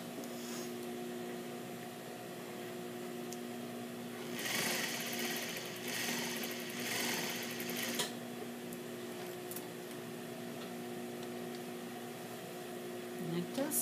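A sewing machine stitches a jacket sleeve along basting at the armhole, running in a couple of short bursts over a steady background hum, fairly close.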